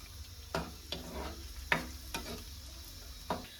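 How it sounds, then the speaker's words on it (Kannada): Raisins frying in a pan of oil after cashews, for vermicelli payasam: a steady low sizzle broken by about seven sharp scraping stirs of a spoon against the pan, close and fairly quiet, with no talk. "ಗೋಡಂಬಿ ಫ್ರೈ ಆದ ನಂತರ ನಾನು ಕಿಶ್ಮಿಶ್ ಅಂದ್ರೆ ಒಣ ದ್ರಾಕ್ಷಿನ ಹಾಕೊಂಡು ಕೂಡ ಫ್ರೈ ಮಾಡ್ಕೊಳ್ತಾ ಇದ್ದೀನಿ"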